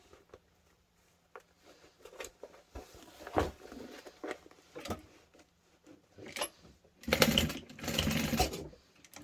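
A sewing machine stitches backpack lining in short irregular bursts of clattering, rising to a louder sustained run near the end, with scattered knocks and handling sounds between.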